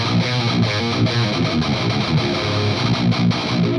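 A Marshall JCM high-gain guitar amplifier gives a noisy, heavily distorted metal tone, played as dense, continuous chugging riffs that stay loud throughout.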